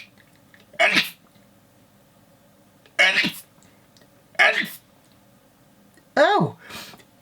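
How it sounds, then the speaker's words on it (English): Four sharp, loud sneezes close by, spaced a couple of seconds apart, each a sudden burst of breath and voice, the last one followed by a brief second puff. "Oh, I'm going to sneeze."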